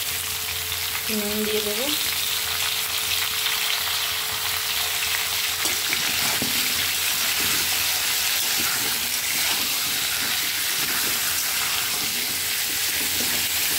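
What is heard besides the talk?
pumpkin and potato frying in oil with nigella seeds and dry chilli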